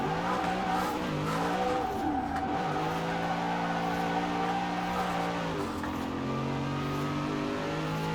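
Engine of an American-made car in Forza Horizon 4 drives steadily on and revs up and down through gear changes, with sustained tire squeal as it drifts through corners, loud and continuous with no talking.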